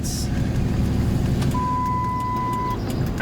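A road vehicle, fitted with a governor and transducer under diagnosis, drives in second gear, its steady engine rumble close and continuous, with a brief thin electronic tone sounding partway through.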